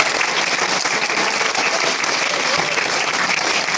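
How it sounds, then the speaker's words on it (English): An audience clapping hands as loudly as it can, a dense, continuous roar of applause at close range holding steady throughout with no pauses. "invite you all to clap your hands as loudly as you can"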